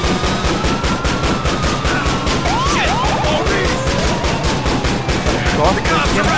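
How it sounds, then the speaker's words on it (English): Rapid, steady shotgun fire from GTA The Lost and Damned pounds on throughout, loud and close, mixed with chaotic game noise and a passing siren-like wail. "Essa shotgun aqui é muito boa."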